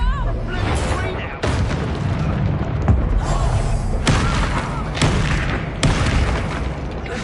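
Spell explosions from a Confringo blasting curse in the Hogwarts Legacy video game, several sharp booms at irregular intervals over dense, continuous battle noise. Voices are heard throughout.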